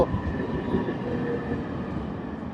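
A special inspection train rumbles past close by on the Chenab Rail Bridge, a steady heavy roar of wheels and carriages with faint metallic ringing, no voices.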